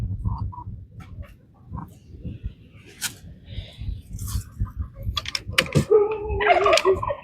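Chickens cluck and murmur close by, with scattered rustling and clicks, rising to louder, busier calls toward the end.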